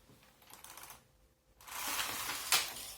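A knitting machine carriage sliding across the needle bed of a domestic machine, giving a muffled mechanical rattle, then a short pause, then a louder, brighter clattering sweep that ends with a sharp click.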